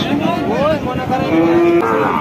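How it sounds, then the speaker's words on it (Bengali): A one-year-old local-breed bull calf moos once, a short rising bleat-like low followed by a sustained tone, heard close amid a noisy crowd murmur at an outdoor cattle market in Jessore. "এদিকে একটা সার বাছুর দেখতে পাচ্ছি"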